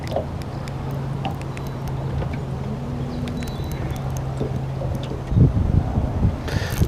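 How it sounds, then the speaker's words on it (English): An electric trolling motor holds a fishing boat's drift with a steady low hum under light wind noise, with a brief louder bump near the end. "I'm still having to use my trolling motor to slow the bait down, slow the drift down a little bit"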